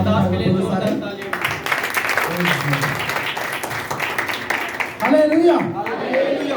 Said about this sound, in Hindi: परमेश्वर के दास के लिए जोरदार तालियां